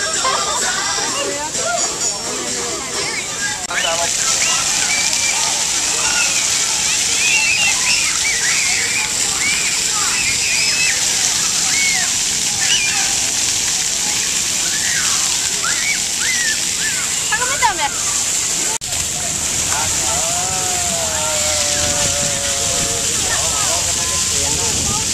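Water fountain in Battery Park splashing and sloshing in a steady loud wash, with a crowd talking and babbling throughout over the spray.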